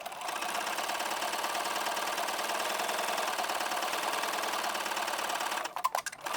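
A sewing machine running steadily to stitch closed the opening of a knit pants waistband, a continuous close whir, then a few clicks and a brief stop near the end.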